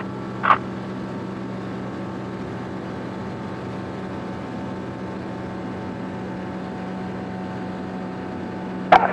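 Steady engine drone from a Zenith CH 750 Cruzer light sport kit aircraft at full power on takeoff, carrying two people with half-full fuel tanks, a continuous even roar with brief clicks at the start and end.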